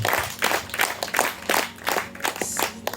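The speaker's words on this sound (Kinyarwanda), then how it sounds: "Nimwongere mumpere Yesu amashyi menshi." Applause and clapping from a church congregation praising Jesus, steady and fairly close, with rhythmic bursts of many hands and no talking.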